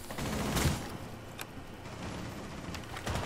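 Gunfire in a first-person shooter match, including a shot that hits a player through a wall. It comes as a few sharp bursts over steady game noise, loud and close, with no speech.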